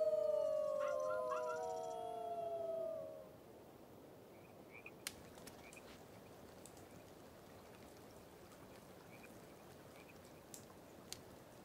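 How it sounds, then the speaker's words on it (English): In the video game Life is Strange 2, wolves howl back from a distance in long overlapping wavering tones lasting about three seconds, followed by quiet outdoor ambience with soft crackles. "You get something howling back."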